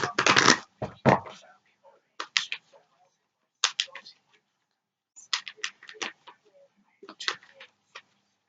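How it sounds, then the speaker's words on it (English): A deck of tarot cards is shuffled and cut in bursts of crisp riffling and slapping, separated by short pauses, close and clear against a quiet room. "let's cut the deck"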